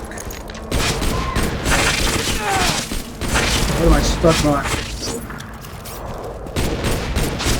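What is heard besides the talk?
grenade explosions in video game Borderlands 2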